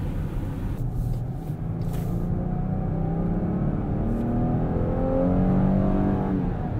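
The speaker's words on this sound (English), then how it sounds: "So this engine really rings out." A car engine revs up steadily, its pitch climbing and holding in a loud, continuous roar with no one speaking.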